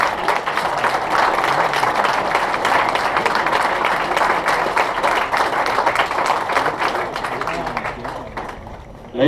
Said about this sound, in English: Let's have a round of applause for the 365th Training Squadron.